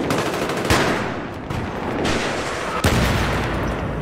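Rapid machine gun bursts and gunshots in the Battlefield 3 Squad Rush multiplayer mode, loud and continuous across the battle, with sharp louder shots punctuating the dense gunfire.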